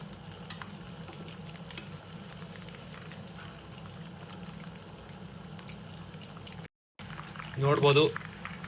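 Mushroom kababs fry in a pan and are turned over, giving a continuous low sizzle with a brief break and a louder burst of sizzling and clatter near the end, as a voice speaks over it.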